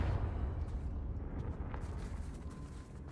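A Confringo spell blast in a Harry Potter video game: a loud, sustained, deep rumbling explosion that fills the whole stretch and fades slightly toward the end, with no talking.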